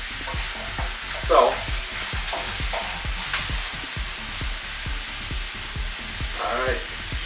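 Vegetables stir-frying in peanut oil for a vegan Thai coconut curry, a steady loud sizzle broken by a rapid run of scraping spatula strokes, with a brief spoken word near the start.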